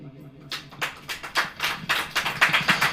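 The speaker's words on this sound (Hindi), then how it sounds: "अपने हाथों को ऊपर उठा के, ताली बजाइए" A church congregation clapping hands during a sermon, quick repeated claps in a steady rhythm that build in density, with a voice under the clapping.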